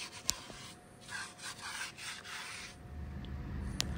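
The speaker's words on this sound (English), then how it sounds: "I go around the edge of the tyres with this tyre brush here" Stiff tyre brush scrubbing around the edge of a Nissan GTR tyre during an exterior valet, giving a run of close, rough bristle strokes in an uneven rhythm with brief pauses between passes.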